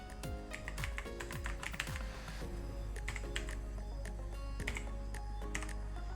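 Rapid, uneven keystrokes on a computer keyboard as a captcha code is entered, a steady run of close clicks and taps over a low hum, with no talking.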